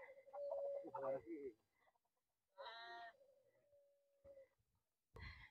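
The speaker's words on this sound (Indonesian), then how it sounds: "Ini ayam" Chickens cluck and vocalize in bursts, some close and fairly clear, with a faint voice and quiet outdoor gaps between calls.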